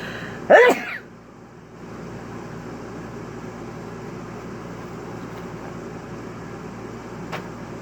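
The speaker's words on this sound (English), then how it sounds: "Why am I always getting allergies, sneezing?" A single sharp, loud sneeze from someone with allergies bursts out near the start, followed by quiet room hum with no further sound.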